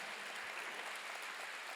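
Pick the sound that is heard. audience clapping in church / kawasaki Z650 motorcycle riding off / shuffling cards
audience clapping in church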